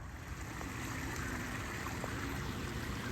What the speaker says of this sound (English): It's a man-made creek, but still it's a creek.